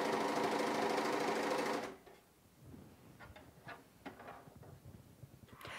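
A bernette Funlock b42 coverlock runs a 2-needle wide coverstitch, a loud, steady high-speed mechanical whir lasting about two seconds before stopping abruptly, followed by faint scattered handling clicks and rustles.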